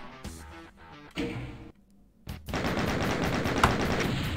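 Rapid machine-gun fire from the original DOOM game, a dense, loud burst of shots that starts partway in after a few scattered earlier bangs and continues to the end.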